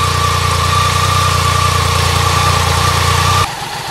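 BMW K75 motorcycle engine idling steadily after a warm-up, with a continuous even hum and mechanical whine, close and loud, cutting off near the end.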